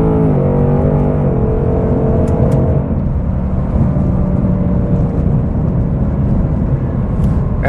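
A 2021 Ford Mustang Mach 1 with a 10R80 automatic pulls out and accelerates past another car, engine roaring loud and close from inside, rising through the revs with a gear change, steady heavy drone throughout.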